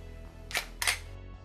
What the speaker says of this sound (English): If you notice the sound of the shutter as well